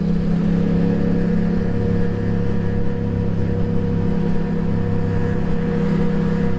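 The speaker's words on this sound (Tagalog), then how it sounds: "Ganda ng tunog ng muffler nito ni Bems." Big bike motorcycle engine and muffler exhaust droning steadily at motorway speed, a full, deep continuous hum that stays loud and close throughout with no talking.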